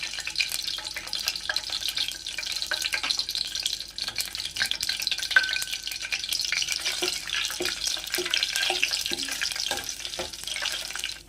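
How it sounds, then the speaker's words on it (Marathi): Bay leaf and whole spices sizzle in hot oil for prawn biryani, a soft, steady crackle with scattered light clicks of stirring throughout. "तेल चांगलं तापलं आहे. आता आपण त्यामध्ये तेजपत्ता टाकूया, हे खडे मसाले टाकूया"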